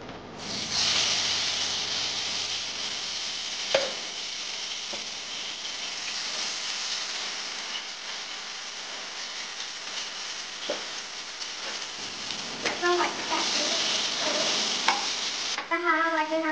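A ground masala paste sizzles in hot oil and is stirred, giving a continuous bright hiss with occasional utensil knocks and scrapes, heard alone without speech.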